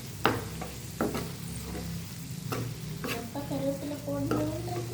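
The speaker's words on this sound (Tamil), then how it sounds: "லைட்டாக அப்படி ஃபஸ்ட்டு பண்ணிவிட்டு எண்ணெயில் இப்போ நல்லா கிண்டிடலாமா?" Pasta ingredients stirred in hot oil in a pan, with a steady sizzle of frying under repeated scraping spatula strokes, close and fairly loud, along with some clinks of utensils.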